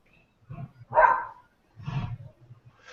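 A dog gives a few sharp barks, two or three separate yaps spaced under a second apart, fairly close in an otherwise quiet room.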